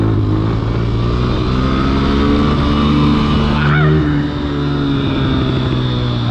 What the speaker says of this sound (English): You see a kid on a dirt bike doing wheelies.